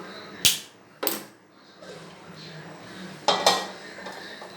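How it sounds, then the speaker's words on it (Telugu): A wide metal kadai clanks down onto a kitchen stove, giving sharp metallic knocks and scrapes: two hits, then a pair of clatters after a pause, close and fairly loud. "ఇలాంటి వెడల్పాటి బాండీ ఒకటి పెట్టేసుకుందాం"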